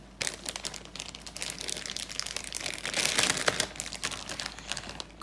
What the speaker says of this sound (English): we're going to put them inside a Ziploc plastic bag